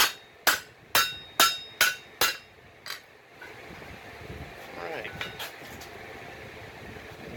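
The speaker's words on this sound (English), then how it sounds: "I'll go ahead and straighten them edges out." Hammer strikes on steel pipe being forged into a hoe: seven sharp, loud, evenly spaced ringing blows, followed by quieter rustling, clinking and shop background noise.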